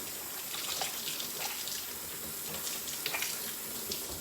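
Tap water runs steadily into a kitchen sink while plantain peels are rinsed, a continuous close splashing hiss with small irregular spatters and no voices.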